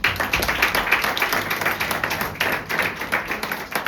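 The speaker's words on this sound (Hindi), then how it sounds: "तो अब मैं वचन के लिए पास्टर जी को बुलाना चाहूंगी, वो भी जोरदार तालियों के साथ" A church congregation at a Sunday service claps to welcome the pastor, a dense, loud burst of many hands clapping steadily throughout, with no talking over it.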